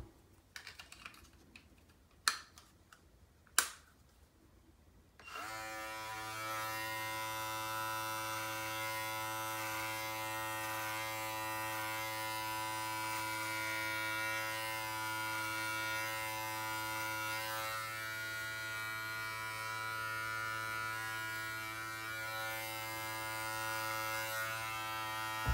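Electric beard trimmer fitted with a 15 mm guard cutting through a big beard: a few clicks and handling sounds first, then a loud, steady motor buzz that runs continuously to the end.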